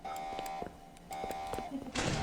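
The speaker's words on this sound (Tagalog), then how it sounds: "Turn off the alarm. Pound the alarm." An alarm sounds in a pizzeria video game as a series of repeated electronic beeps and buzzes under continuous game noise, with a brief burst of noise at the end.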